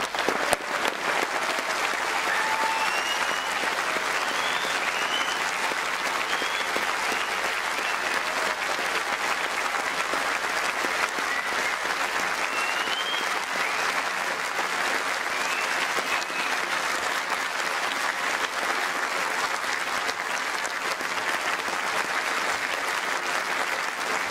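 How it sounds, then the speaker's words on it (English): A large audience at a graduation ceremony applauds the new graduates, steady dense clapping that fills the hall continuously for over twenty seconds without letting up, with faint crowd murmur beneath. "I think we might all join in a great round of applause, don't you, for our new graduates."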